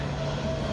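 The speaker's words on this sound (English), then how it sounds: "Comes a plane." A low, steady engine drone from an airplane passing near Far Northeast Airport in Philadelphia rumbles outdoors without pause, moderately loud and close, with no voices.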